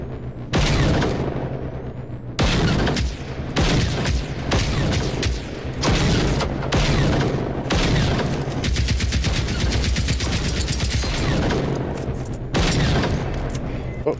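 Sustained bursts of automatic gunfire aimed at a robot's rockets in the video game Generation Zero, loud close rapid volleys separated by brief pauses, with a few heavier booms mixed in.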